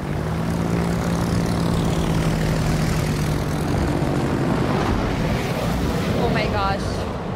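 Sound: torpedo bomber aircraft flying in World of Warships video game

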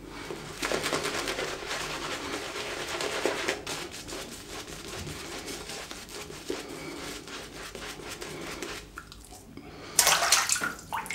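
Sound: water poured into shaving bowl while making lather

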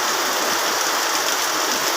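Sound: rain falling

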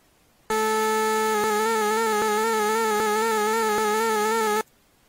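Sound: tracker vibrato sine wave with retriggering notes

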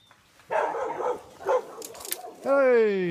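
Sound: puppies barking

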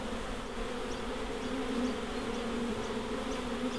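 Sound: wild bee swarm buzzing at a tree

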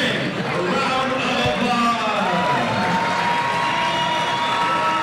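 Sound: crowd applause and cheering for the ring card girl

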